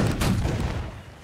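Musket volley in a video game, a loud, close burst of overlapping gunfire that booms and then decays quickly, with no voices.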